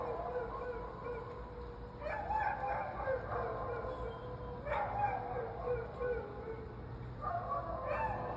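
Several dogs bark in scattered bursts at a distance, mixed with other animal calls over a steady background hum.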